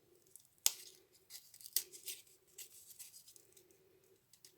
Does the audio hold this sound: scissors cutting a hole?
yes